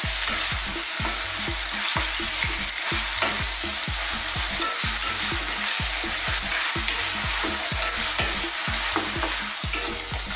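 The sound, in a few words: beef browning and sizzling in a pan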